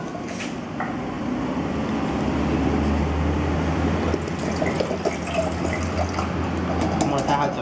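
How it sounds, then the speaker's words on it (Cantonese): Water, about 300 ml, pouring into a pot for a Fire-Maple FMS-F3 split-type liquid fuel camping stove, a steady close splashing fill that runs the whole time with a low rumble beneath. "就將200ml水，呢度約莫300ml水倒到。"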